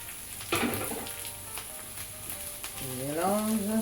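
Beef, pepper and aubergine sizzle in a frying pan with scraping stirs, and a short voice murmur comes in near the end.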